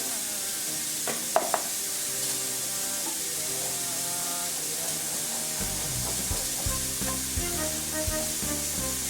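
Idli batter being stirred by hand with a little water and a spoonful of curd, with soft, irregular scraping and sloshing in a bowl under a steady, faintly tonal background.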